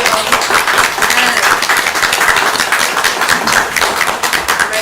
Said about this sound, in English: Give a round of applause, yo.